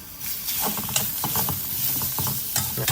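Minced pork stir-fried with southern Thai curry paste in a hot pan, a continuous close sizzle with scraping stirring strokes throughout.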